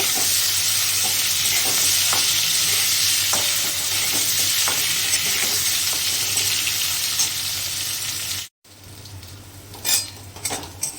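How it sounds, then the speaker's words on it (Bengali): Potatoes and green chillies frying in hot oil left from frying fish, a loud continuous sizzle with occasional spoon clinks against the pan, then a brief cut and quieter stirring. "হালকা লাল করে ভেজে নেব"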